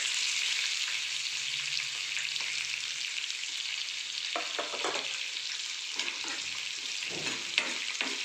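Chopped onion and curry leaves sauté in an oil-filled pan for a spicy crumbled chapati dish, a steady close sizzle broken by several scraping stirs of the spoon toward the end.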